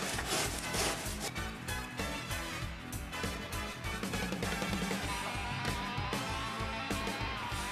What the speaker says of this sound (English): you'll have to use a rasp and remove some material.